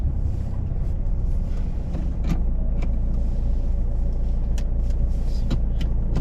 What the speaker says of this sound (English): just switch off the engine